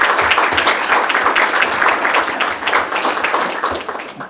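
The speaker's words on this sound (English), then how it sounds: "I think he deserves a round of applause." Audience at a city schools board meeting applauding, a dense, steady round of clapping from a roomful of people that holds at an even level for a few seconds before easing slightly.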